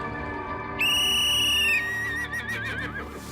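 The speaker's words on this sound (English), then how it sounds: "She blew the whistle" A single sharp whistle blast, about a second long, signals the start of a horse jumping round, followed by a fading warble over steady outdoor background noise.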